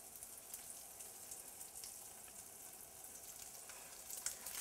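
A rack of ribs sizzles fat side down in a hot pan, a faint, steady crackling hiss with small pops scattered through it, and no talk.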